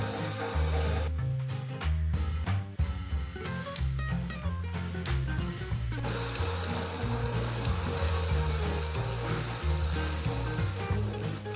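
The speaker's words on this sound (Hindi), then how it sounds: "ये मेरे पास बैटर आ गया, इसको मैं इसके अंदर फ्राई करूँगा।" Corn batter fries in melted ghee for a sweet corn kheer, a dense steady sizzle that swells fuller about halfway through, with background music playing throughout.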